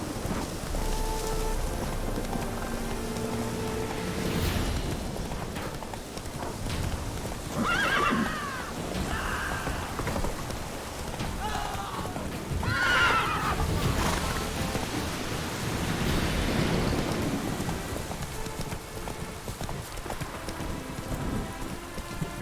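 Roach, the horse in The Witcher 3, neighs a few times and clip-clops along under steady in-game rain, the whinnies standing out over the constant patter with no voices.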